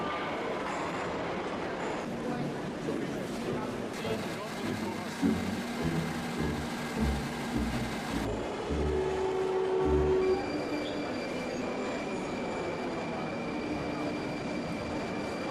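A Moscow metro train in a deep underground station rumbles and clatters, with squealing wheels and sustained tonal whines as it moves, loud and close; voices are heard faintly in the background.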